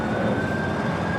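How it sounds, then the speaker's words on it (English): Emergency vehicle sirens carry from a distance near the LAX area, a steady wailing tone over a constant hum of background noise. "Are we hearing sirens?"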